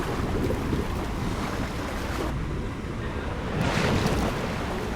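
Water waves in the video game BGMI wash and roar steadily with wind-like rushing, a dense continuous surge that briefly dips and then swells again, close and fairly loud with no talk.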